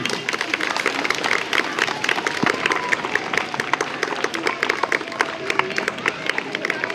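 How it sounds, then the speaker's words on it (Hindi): Students clap at a welcome ceremony at a government secondary school, a sustained patter of many hands. Voices murmur faintly in the background. "भाई तालियां बजती रहें।"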